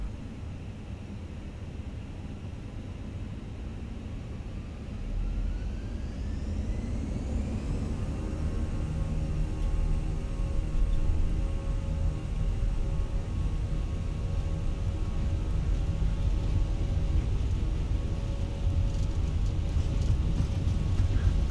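An A320 airliner in a flight simulator speeds up on the runway, its steady engine roar growing louder with a rising whine, while a broad rushing rumble continues throughout.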